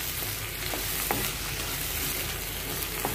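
An onion cream curry with kasuri methi and garam masala sizzles in a pan while being stirred, a steady close hiss broken by occasional spoon scrapes.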